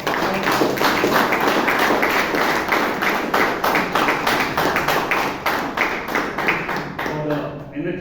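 Audience at a Toastmasters meeting in Bangalore breaks into a sustained round of clapping, dense and steady throughout before thinning out at the very end.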